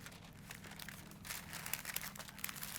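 Parchment paper shaped into a heart being folded over food, giving close, soft crinkling and crumpling that grows busier and louder partway through, with no talking.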